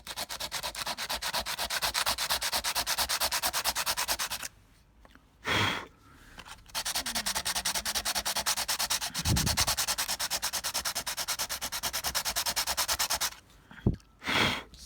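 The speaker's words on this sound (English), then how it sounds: "I started off using a bit of sandpaper on the lettering" Sandpaper rubbed by hand over painted lettering on a custom graffiti-painted engine bay, a steady close scratchy rasp of quick back-and-forth strokes, broken by two short pauses with faint knocks.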